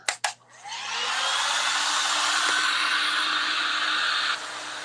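A hair dryer blows on a craft project, starting with a couple of handling knocks, then a loud, steady, close whoosh that drops slightly in level near the end, with no talk.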